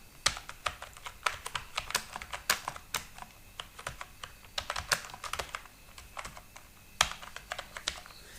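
Rapid, uneven keystrokes on a computer keyboard as text is entered into a box in a Word document, close and fairly quiet, with short bursts and brief pauses and no talking.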